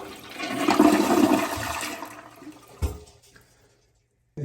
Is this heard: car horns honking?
no